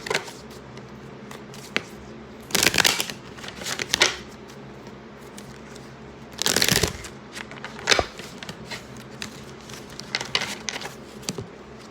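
Tarot cards are shuffled and pulled in close, brisk bursts of riffling and slapping, separated by quieter handling and soft rustles, with no talking.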